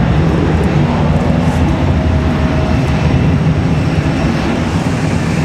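A Spirit Airlines jet climbs out after takeoff on a windy day at Raleigh-Durham airport, a steady broad engine roar with wind rumble holding loud and even throughout, no voices.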